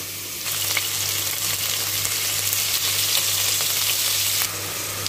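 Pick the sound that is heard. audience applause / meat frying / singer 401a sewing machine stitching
meat frying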